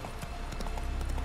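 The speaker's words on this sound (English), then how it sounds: "I want to mount my horse!" Hooves of Roach, a horse in The Witcher 3 video game, clip-clop in a steady, brisk rhythm, loud and close, with a faint background bed and no talk.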